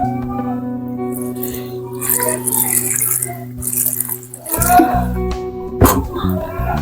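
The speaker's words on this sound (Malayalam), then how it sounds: "നമുക്കിനി ചിക്കൻ ജസ്റ്റ് ഒന്ന് വേകാനുള്ള വെള്ളം കൂടെ ഒഴിച്ചു കൊടുത്ത് അടച്ചു വെച്ച് വേവിച്ചെടുക്കാം" Water is poured into Dhaba-style chicken curry in a pan, a short splashing pour after a stretch of a person talking over a steady kitchen hum.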